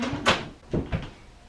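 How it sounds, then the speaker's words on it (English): A door swings shut while a cervical traction unit hangs over it: three soft knocking thuds spaced across a second and a half, fairly close, with no talking. "Now we're going to close the door"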